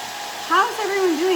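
A hair dryer whirs steadily to quick-dry paint on a tier tray nativity set, a close, continuous blowing hum with a slight surge in pitch midway.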